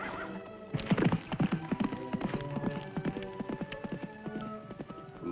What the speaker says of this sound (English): From the sound of those hoofbeats